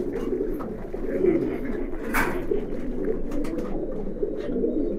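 Khaki pigeons in a pigeon loft coo continuously, with layered throaty calls from several birds close by.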